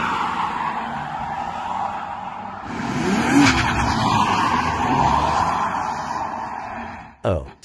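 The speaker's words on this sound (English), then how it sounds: "Oh, spins out and crash." A drifting car skids with a long tire squeal and engine roar, spins out, and ends in a short, sharp crash at the close, with a voice audible over the noise.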